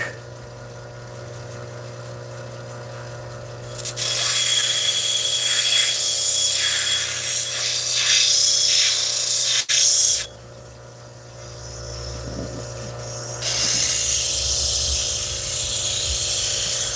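Amethyst is cut on a saw: a loud, harsh grinding whine with watery spray comes in two long bursts, separated by a quieter running motor hum.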